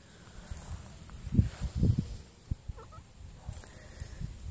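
Free-range hens and a rooster cluck and call outdoors in a farmyard, with a few low throaty bursts near the start followed by scattered softer clucks under steady background hiss.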